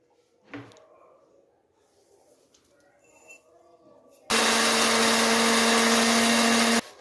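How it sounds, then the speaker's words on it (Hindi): A home electric grinder pulverises dried turmeric, starting abruptly after a few quiet knocks and handling sounds and running as a loud, steady whine for a little over two seconds before cutting off. "तो अब इसकी पुसवाई कर लेते हैं, मैं घर में ही पीसूँगी।"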